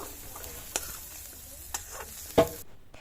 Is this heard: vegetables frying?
yes